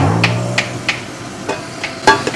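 Chopped onions hit hot oil in a pan for a mushroom biryani, giving a steady hiss with a series of sharp clacks from stirring or a spoon tapping the pan at uneven intervals.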